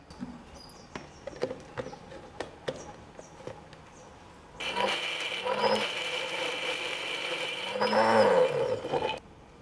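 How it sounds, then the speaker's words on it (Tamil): A mixer grinder grinds masala for a country chicken fry, starting after a few sharp clicks and then running loud and steady with a whirring, rising-and-falling roar that continues to the end. "இப்போ அந்த மசாலாவை அரைச்சிட்டு வந்துடலாம்"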